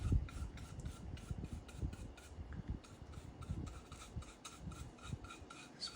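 Lacquer being wiped by hand across the face of a table tennis blade, giving a steady, close, soft rubbing and rasping with regular back-and-forth strokes and no voices.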